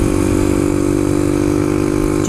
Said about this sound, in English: Jacob's on a WR-250R, I think it is